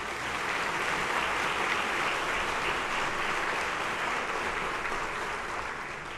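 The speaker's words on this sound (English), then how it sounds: "Let's give them a round of applause" A large audience at an awards ceremony applauds honorees, a steady and dense wash of clapping that holds at an even level for several seconds before tapering slightly at the end.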